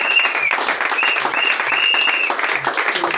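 A church congregation claps loudly and continuously, a dense wash of applause filling the room with scattered cheers and voices rising over it.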